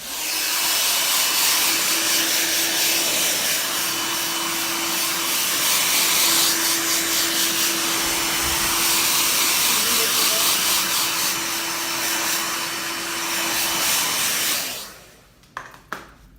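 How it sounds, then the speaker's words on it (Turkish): A hair dryer blows with a loud, steady airy roar and a faint whine for most of the clip while styling a short bob haircut, then shuts off into quiet clicks. "Bir fönle şöyle bir dağıtalım."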